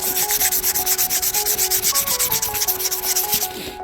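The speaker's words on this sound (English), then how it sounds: "I'm using 60 coarse, you see, coarse removal. So it's the rough sandpaper." Coarse 60-grit sandpaper rubbed on a truck's worn clear coat makes a loud, close, rhythmic scratching, with quick even back-and-forth strokes repeating steadily throughout and no voices.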